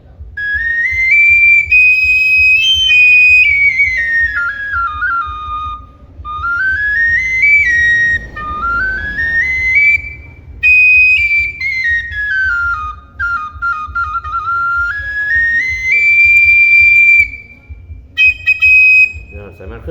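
A Lanna bamboo flute from northern Thailand plays bright, high sliding notes, rising and falling in long smooth phrases, loud and close.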